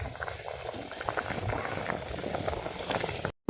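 A village chicken curry made with coconut milk boils in a pot with a steady, close bubbling and simmering hiss that runs for several seconds and then cuts off abruptly.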